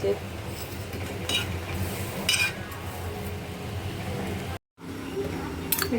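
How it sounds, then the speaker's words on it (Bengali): Bread being toasted in butter in a frying pan, a soft steady sizzle with occasional clinks of a utensil against the pan, with quiet voices in the background and a brief dropout near the end. "এখানে এখন বাটার টোস্ট হচ্ছে। একটা পাউরুটি নিয়েছি, নিয়ে এটাতে আর কি বাটার টোস্ট করে নিচ্ছি।"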